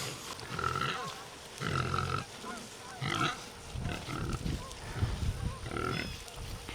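Pigs grunt and snuffle while tearing up chicory on a spring pasture, a series of short irregular grunts in bursts, fairly close but quiet, with rustling between.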